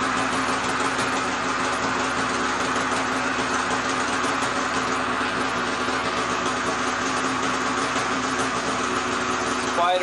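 A stock 2020 Polaris 850 engine runs at a steady, even idle for the whole clip, close by and continuous, with no notable revving or changes in pitch.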